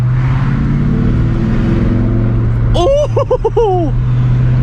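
Ford Mustang Cobra fitted with a Flowmaster 40 Series exhaust, a steady loud rumble breaking into a quick series of sharp revs, with a man's short exclamation near the start.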